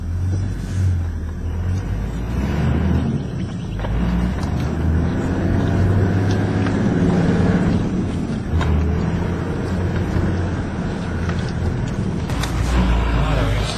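A car rumbles and creaks down a rough, bumpy track toward Noosa North Shore beach, with a steady low engine drone, body rattles and occasional jolts, close and continuous throughout.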